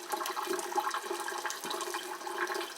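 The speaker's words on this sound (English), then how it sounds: "See my water going a little bit while I'm doing this." Tap water runs steadily from a faucet at a bathroom sink during a face-washing routine, a continuous close hiss and splash with no talking over it.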